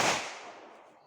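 A single firecracker bursts at a Deepavali celebration at home, one sharp crack that tails off quickly into a fading hiss.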